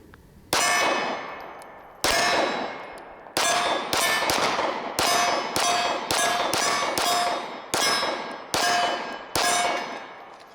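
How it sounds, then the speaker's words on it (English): A Diamondback AM2 9mm pistol fires thirteen rounds outdoors, each sharp, ringing report followed by a decaying metallic tail, shots coming in an uneven rhythm roughly half a second to a second and a half apart. "first rounds, Diamondback AM2 9mm pistol"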